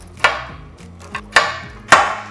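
A knife chops pecans on an antibacterial, scratch-proof kitchen surface in three loud, sharp strikes spaced about a second apart, with a softer tap between them and a low background hum.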